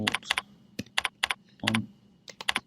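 Quick bursts of computer keyboard typing as code is entered, several clustered clicks with short pauses between, close and fairly quiet with no talking.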